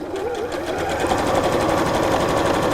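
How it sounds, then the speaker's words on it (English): A sewing machine running steadily while stitching around a small fabric tie top tray, a close, continuous whirring hum with a rapid needle patter throughout. "This isn't quite big enough to use the free arm on your sewing machine, so sewing from the inside like that is going to be the easiest way to do it."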